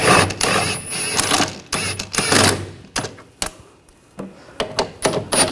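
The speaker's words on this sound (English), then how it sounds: "I'm just using a wrench to help pull the bolt out while I unscrew it" A wrench works a bolt loose from the rear upper control arm of a 2014–2020 Nissan Rogue, making close, sharp metallic clicks and ratcheting bursts with brief pauses between them.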